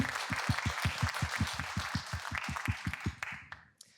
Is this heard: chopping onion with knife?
no